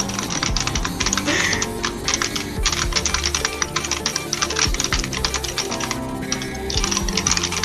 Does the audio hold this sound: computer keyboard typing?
yes